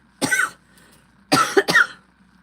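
A single cough followed after a pause by two quick harsh coughs in a row, close and loud in a quiet setting.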